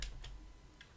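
A few quick clicks on a computer keyboard as the cd command is typed in a Linux terminal, short taps near the start, around a quarter second in and again near the end, faint and close.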